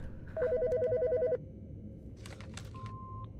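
A telephone rings in the video game Autopsy Simulator with a loud electronic trill lasting about a second. Scattered clicks and a short steady beep follow.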